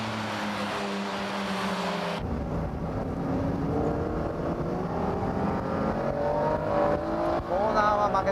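Race cars run hard on a track, a Porsche, a Ferrari F355 and an NSX-R battling with a McLaren F1 nearby. Loud engine whine with rising and falling pitch and an abrupt shift partway through as gears change under load.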